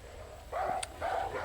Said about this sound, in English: I'm going to infer that it's a dog barking